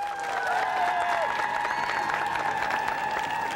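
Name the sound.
studio audience applause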